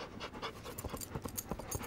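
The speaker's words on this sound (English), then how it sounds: "Get that dog out of here." A dog pants in quick, rhythmic breaths, soft and close, with no other sounds or voices.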